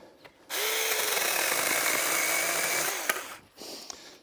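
A Seesii 8 inch mini chainsaw cuts through wood in one steady, loud burst of about two and a half seconds, its whine holding even until the blade clears and the motor winds down, followed by a short quieter rev.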